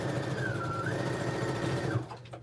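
A sewing machine stitches and back-stitches a seam on a tote bag. It is a steady, continuous motor whir with rapid needle chatter, close and fairly loud, running about two seconds and then stopping.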